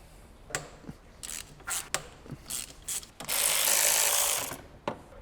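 A ratchet works a bolt loose on a V12 BMW E32 750iL, giving short bursts of clicking and then a sustained fast ratcheting run, close and clear with no talking.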